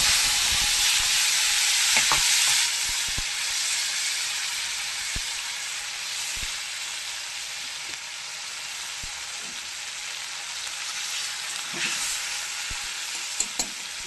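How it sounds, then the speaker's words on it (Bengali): Ginger and tomato dropped into hot oil after cauliflower, a loud, dense, continuous sizzle that eases slightly over time, with occasional soft clicks of a spatula, close and without talk. "এবার আদা টমেটোটা তেলের মধ্যে দিয়ে দেবো।"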